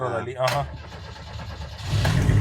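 A car engine cranks and catches, then settles into a low idle rumble that grows slightly toward the end, with people talking over the start.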